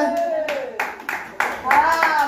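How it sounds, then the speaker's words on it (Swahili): A handful of sharp hand claps land in an uneven rhythm at a family karaoke gathering, mixed with voices speaking and singing nearby. "Wapi makofi yake?"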